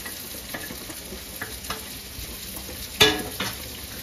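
Sardines and masala fry in a pan with a constant close hiss and sizzle. Occasional light clicks of stirring come through, and a sharper clatter of a utensil hits the pan partway through.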